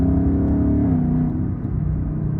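A Ford Mustang GT with a 10-speed automatic, in third gear, gives a loud, close, low engine drone that rises and then eases as it pulls.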